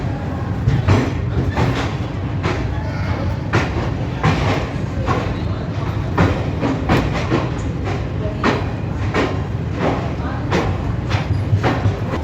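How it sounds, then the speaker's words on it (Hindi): A double-decker metro train rolls past over a bridge, its wheels making a steady, rhythmic clickety-clack over the rail joints with continuous rumbling. "वो देखो सामने ब्रिज पे डबल मेट्रो क्रॉस कर रहा है"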